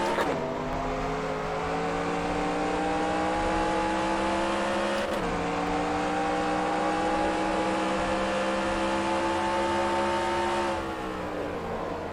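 A Next Gen NASCAR stock car at Phoenix in NASCAR Racing 2003 drones loudly and steadily at high revs, with a sharp shift midway and the pitch dropping off near the end as it brakes into turn three.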